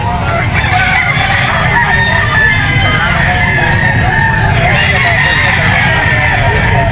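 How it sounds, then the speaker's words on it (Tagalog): A yellow-legged rooster crows loudly and at length at a busy pet market, its harsh, drawn-out call running almost the whole time over steady crowd bustle. "Isang bulik na yellow legged cock na mga idol."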